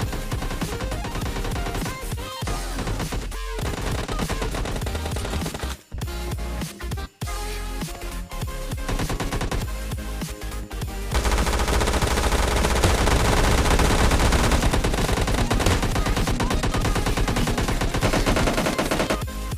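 Sustained rapid automatic fire from a P90 submachine gun in the mobile game PUBG Mobile during a team deathmatch, loud and dense throughout, with brief dropouts and a louder stretch in the second half.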